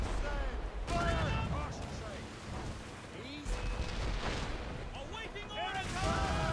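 Naval cannons firing a broadside from a sailing ship in Assassin's Creed Rogue, deep rolling booms under continuous rumble and crashing water, with crew shouting orders throughout.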